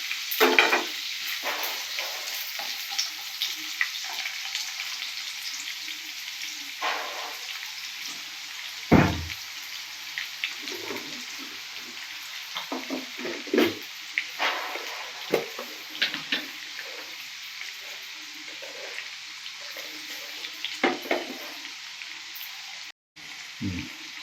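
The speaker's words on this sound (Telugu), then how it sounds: "కొంచెం జీలకర్ర వేగిన తర్వాత చిక్కుడుకాయలు, క్యారెట్ పీసులు, ఆనియన్స్," Vegetables for veg biryani, including broad beans, carrot pieces, onions and green chillies, sizzle and fry in a pan with cumin, a steady close crackle broken by repeated scraping stirs.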